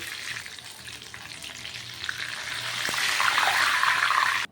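Steady sizzling of loitta fish frying in a pan, growing louder toward the end, with a brief clink partway through.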